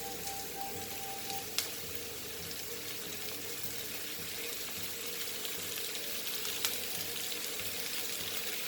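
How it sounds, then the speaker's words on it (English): Chopped tomatoes sizzling in a hot pan of gravy base, a steady, dense crackle of frying that runs on evenly without talk. "Now I will add chopped tomatoes."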